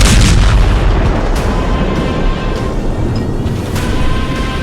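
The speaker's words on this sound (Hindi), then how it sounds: "ईरान के करज पुल पर फटी ये मिसाइल" A missile exploding on the Karaj bridge in Iran: a loud, continuous rumbling roar of blast and debris with rolling booms, heard close and alone without voices.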